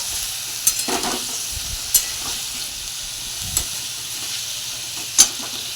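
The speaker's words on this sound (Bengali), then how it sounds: "এদিকে আলু ভাজার পর্ব চলছে, তার সাথে একটা গোটা টমেটোও দিয়ে দিয়েছি।" Potatoes and a whole tomato fry in oil in a wok with a steady, close sizzle, broken by occasional sharp clicks and taps of a spatula stirring against the pan.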